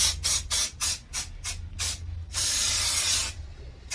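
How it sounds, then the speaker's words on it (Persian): Silicone release spray is sprayed from about 20 cm onto an ABS mould for casting artificial stone: a run of short, sharp hissing bursts, then one long steady spray that stops abruptly, close and clear. "از فاصله 20 سانتی همه جاشو برای که راحت تر از قالب جدا بشه ما اسپری سیلیکون بزنیم"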